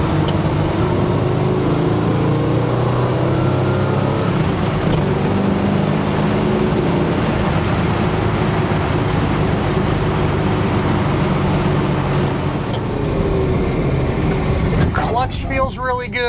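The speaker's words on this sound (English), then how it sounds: "Downshift here and do a 3rd gear pull." A 1972 Chevrolet Nova with a big-block V8 and 4-speed manual, heard from inside the cabin as a loud, steady engine roar through a downshift and third-gear pull. Someone talks over it.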